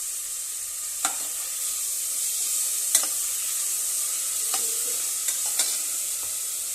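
Fenugreek, mint and coriander leaves fry in hot oil with a steady bright sizzle, while a spoon scrapes and stirs the pan in a few distinct knocks.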